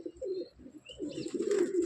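A white desi pigeon gives soft, low cooing calls, close by and repeated in short throaty phrases, with faint chirps from other birds in the background.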